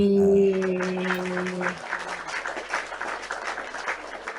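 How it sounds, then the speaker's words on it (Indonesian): An audience on a live stream claps for Agatha, a light, scattered patter that starts as a held tone and music drop away and continues at a moderate level. "Kita kasih tepuk tangan dulu untuk Agatha"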